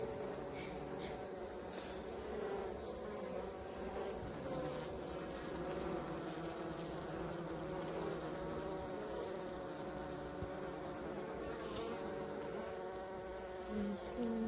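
A dense, steady drone of many bees buzzing close by, continuous and unbroken with no talking.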